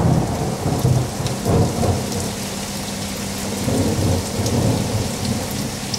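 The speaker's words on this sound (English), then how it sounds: "I love the sound of thunder and the look of lightning." Rumbling thunder rolls through a steady downpour, the low growl swelling and fading over rain hissing and pattering on surfaces, loud and close with no voices.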